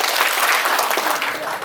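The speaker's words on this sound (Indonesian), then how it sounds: "Tepuk tangan 3 kali aja" Audience at an Indonesian talk session applauding in a dense, continuous burst that fills the whole stretch, loud and close with no clear separate beats, rather than three distinct claps.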